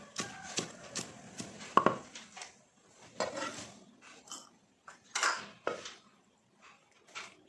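A knife taps and slices red chili peppers on a cutting board in irregular strokes, with a few sharper knocks of utensils in between.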